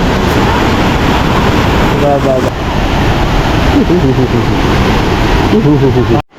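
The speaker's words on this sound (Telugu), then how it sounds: "అమ్మ కిందనే వాటర్ ఎట్లా ఫ్లో అవుతున్నాయో" River water rushing beneath a living root bridge in Meghalaya, a steady broadband roar of flowing water heard close by, with a person briefly talking over it.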